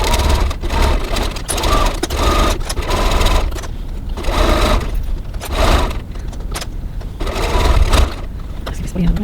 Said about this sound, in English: double stitch around the strap area just to reinforce it